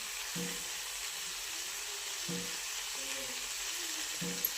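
Guar bean curry seasoned with black chili powder sizzles in a pan over low flame, a steady close hiss broken by four or five soft, rhythmic stirring strokes, with no voices.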